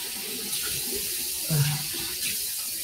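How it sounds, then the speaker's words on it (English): Tap water runs and splashes at a bathroom sink during a self-care routine, a steady broadband wash with a brief louder splash near the middle, close and alone with no talk. "I'm going to splash."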